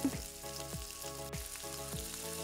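Garlic, onion and red chili fry in a pan for a curry, a constant close sizzle broken by a regular series of stirring scrapes, with no voices.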